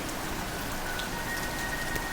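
Rain falls steadily on the Senbon Torii gate tunnel path in Japan, an even, close hiss of drops pattering on the ground and gates, with no voices.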